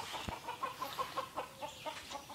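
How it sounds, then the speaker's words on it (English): Free-range chickens clucking in a short run of soft, rhythmic calls, fairly close by, in a yard, with no talking. "Free ranging chickens are known in the country as yard birds."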